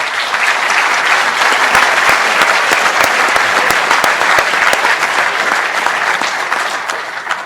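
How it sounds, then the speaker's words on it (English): An audience at a university business-school investing panel gives steady, dense applause that fills the room, then tapers slightly toward the end. "So another round of applause for our panelists,"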